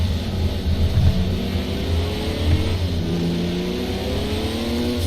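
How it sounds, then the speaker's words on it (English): Turbocharged Porsche race car engine pulling hard and shifting gears on track, the pitch climbing and dropping in repeated sweeps as it upshifts, loud and close throughout. "definite short shift in some areas. Got to keep that mighty turbo under control"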